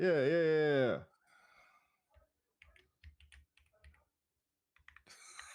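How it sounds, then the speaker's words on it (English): A short vocal whine, then a scattered run of soft computer keyboard clicks in small bursts, close by and fairly quiet. "you sound like you typing too much already"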